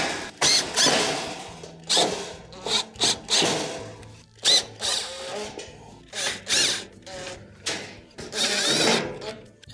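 A power drill drives Phillips screws into the panel of a Samsung stove, buzzing in a string of short, close bursts separated by brief pauses.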